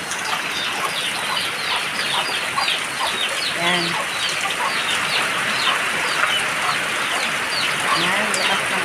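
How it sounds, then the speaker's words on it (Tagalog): Several chickens sheltering from heavy rain cluck and murmur close by over a steady wash of rain, and a person briefly speaks. "Ang mga manok po ay dito na po nagsilungan."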